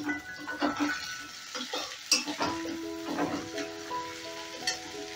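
Onion sizzles loudly in hot oil in a pan as a utensil stirs and scrapes it, with clinks of metal on metal over a steady frying hiss, while a Bengali mustard fish curry is being cooked.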